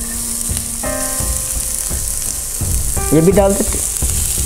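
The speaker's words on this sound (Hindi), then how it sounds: "इस प्याज को मैं कच्चापन निकलने तक भूनूंगी।" Finely sliced onion fries in a pan with cumin, a loud steady sizzle with stirring scrapes, while someone speaks briefly over it.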